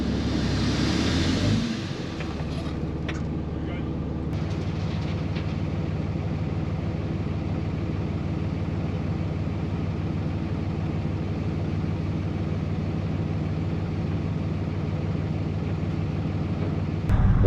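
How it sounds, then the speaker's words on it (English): A skid steer runs at a steady low diesel rumble, loud and continuous throughout, with a brief higher roar at the start and no speech. "so I friggin' brought a skid steer"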